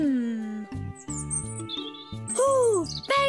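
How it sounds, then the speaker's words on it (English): Baby birds chirp in their nest in a children's cartoon, high sweeping tweets and short calls over a bouncy musical backing, close and clear. "Ooh, baby birds! I saw cute ones in their nest."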